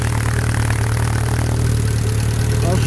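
An Atomic 4 inboard boat engine idles in neutral through a dry stack muffler, a loud, steady low thrum with a fast, even beat and a little mechanical clatter.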